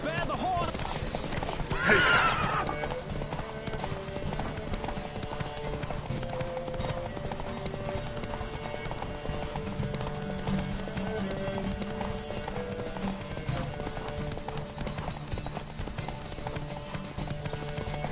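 Horse hooves clip-clop in rapid galloping rhythm throughout a race in the video game The Witcher 3, with a horse whinny near the start and voices talking faintly underneath.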